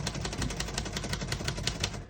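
Keys struck on a 1936 Royal O Model portable typewriter, a steady run of sharp mechanical clacks at close range with no voices.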